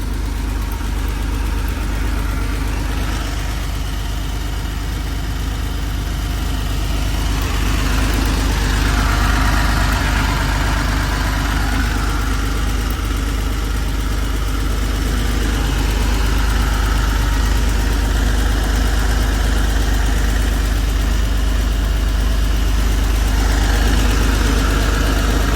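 A 1981 Porsche 911 SC engine idles steadily close by, a continuous low rumble with a slight rise in level partway through, and no talking over it.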